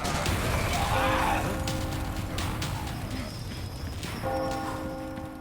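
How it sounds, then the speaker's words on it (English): Church bells ring in the Resident Evil 4 video game, sustained tolling tones layered over dense, noisy game ambience with clattering sounds throughout; no speech. "Get the church bells ringing."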